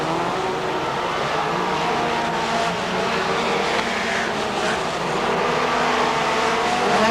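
Race cars roaring around a track, engines loud and continuous, with a broad steady roar and occasional passing surges.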